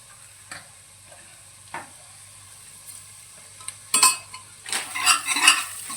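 Turmeric being stirred into onions frying in a pan, a few soft scrapes at first, then busier clattering spoon strokes against the metal over a faint sizzle, no talking.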